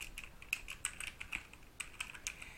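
Someone types on a computer keyboard while filling in a text box, producing a quick, irregular run of light key clicks that are close and fairly quiet, with no voices.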